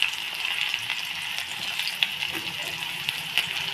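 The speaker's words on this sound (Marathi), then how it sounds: "आता आपण यामध्ये टाकूया बारीक चिरलेला कांदा" Finely chopped onion going into hot oil where garlic is already crackling, giving a steady close-up sizzle with small pops and occasional stirring scrapes, no voices.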